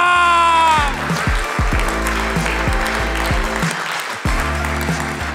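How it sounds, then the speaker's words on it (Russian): Loud applause from a crowd, steady clapping that continues throughout after a brief musical tone fades at the start. "Ваши аплодисменты Андрею!"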